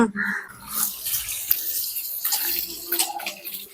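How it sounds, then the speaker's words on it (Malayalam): Water runs and splashes while a poultry cage for turkeys and ducks is washed, the stream rising and falling close by with irregular spattering and no talk. "ഇപ്പം അടുത്ത കൂട് കഴുകാൻ പോണം."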